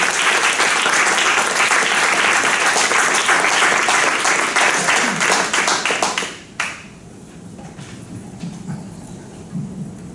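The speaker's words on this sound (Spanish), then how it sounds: "Vamos a aplaudir." Audience applause at a Spanish poetry competition semifinal in Valencia: dense, loud clapping for about six seconds, then breaking off abruptly into a quiet room with scattered faint noises.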